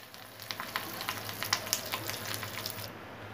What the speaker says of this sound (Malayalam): നമ്മുടെ ഓയിൽ ചൂടായി വന്നിട്ടുണ്ട് നമുക്കതിലേക്ക് കടുക് ഇട്ട് കൊടുക്കാം ഇതിലേക്ക് നമുക്ക് കുറച്ച് കറിവേപ്പില ഇട്ട്